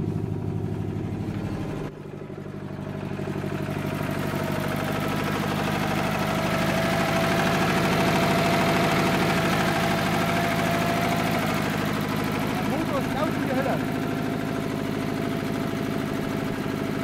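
A Sapo car's engine idles steadily and fairly loud, a continuous rumble with a slight knocking pulse, briefly dipping near the start before settling into an even idle with no talking.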